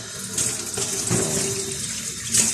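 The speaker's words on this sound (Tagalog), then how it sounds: "Lagyan natin ng konting konting tubig." Tap water runs steadily into a cooking pan while pakbet, a Filipino vegetable dish, is being made, a continuous close splashing rush with a brief louder surge near the end.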